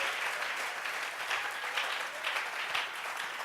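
Church congregation clapping together as an offering of applause during a worship service, a steady dense wash of many hands filling the room without pause.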